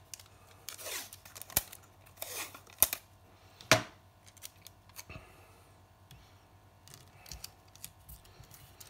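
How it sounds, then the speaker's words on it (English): Tape is pulled and torn off a roll to secure a Tonic Studio memory book die, with several quick ripping strips and sharp crackles, close and fairly quiet, followed by light handling taps. "I'm going to tape it down."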